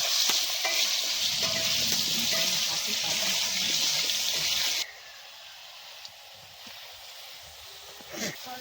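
Oil sizzles steadily as potatoes fry at a forest campsite, loud and close for about five seconds, then the hiss drops away to a quiet background with a faint clink.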